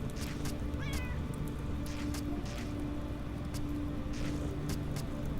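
A cat meows once briefly in the Underrail Expedition game, a short faint call near the start under constant ambient game noise and scattered clicks.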